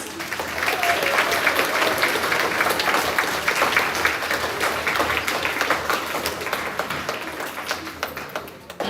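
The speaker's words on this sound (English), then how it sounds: "go ahead and give them a round of applause" An audience at a grades 4-6 school awards assembly gives a round of applause, loud dense clapping that swells early, holds, then thins toward the end with a few scattered claps.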